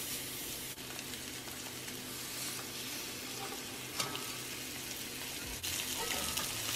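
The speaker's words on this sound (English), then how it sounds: "Now we're gonna sear these on a medium to high heat, making sure you sear them on all sides for about 2 minutes." Short ribs sear in a hot pan over medium-high heat, giving a steady, dense sizzle and crackle with a few brief spatters, close and continuous with no talking.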